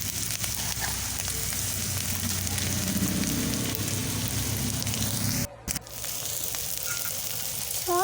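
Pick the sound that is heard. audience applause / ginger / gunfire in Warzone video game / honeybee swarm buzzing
ginger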